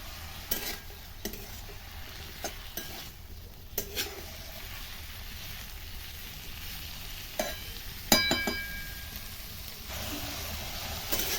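Bitter gourd is stir-fried in ghee with salt, giving a steady low sizzle under occasional scrapes and clinks of a utensil against the pan, faint and close with no voices.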